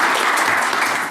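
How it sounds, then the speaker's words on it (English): A crowd applauds with steady, dense clapping throughout, with no voices standing out. "Big round of applause again, Max."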